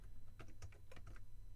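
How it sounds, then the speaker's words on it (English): Fingers type on a computer keyboard in a short, quick burst of light clicking keystrokes, close by and fairly soft, with no talking. "you're going to type in"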